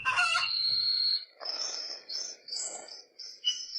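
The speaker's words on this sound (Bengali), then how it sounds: "ইয়া বড় মুরগি!" A rooster crows once, loud and close, with a long drawn-out call, followed by several shorter high chirps and clucks against otherwise quiet surroundings.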